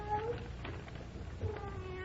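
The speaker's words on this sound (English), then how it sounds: "Oh? Cat. The neighborhood is cat full." A cat meows several times just outside a door, close by with a faint background hum.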